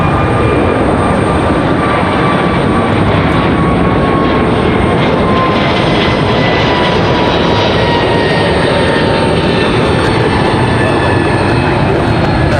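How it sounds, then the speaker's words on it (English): A Delta airliner takes off from runway 23 left at Raleigh-Durham International, its jet engines a loud, steady roar with a rising whine that fills the whole stretch without pause. "Nice early rotation for Delta."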